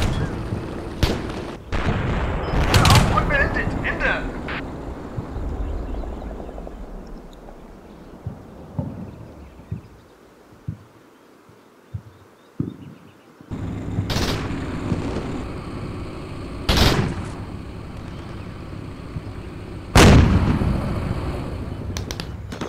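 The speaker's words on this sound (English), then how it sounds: "I'm going to have the mortars immediately suppress the heavy machine gun" Mortar fire on a heavy machine gun position in the war game Combat Mission Shock Force, with several heavy booming impacts spaced seconds apart and a low rumbling battlefield background between them.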